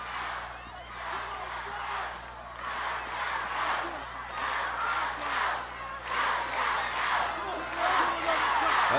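A wrestling arena crowd cheers and roars in rhythmic swelling waves, loud and dense, with a commentator's voice mixed in over the noise.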